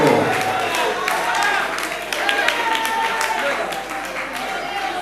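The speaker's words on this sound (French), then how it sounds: "Applaudissons encore une fois pour le Seigneur" A festival audience in a church-style gathering applauds with dense, continuous clapping and crowd noise that fills the space, while a voice carries on over the top throughout.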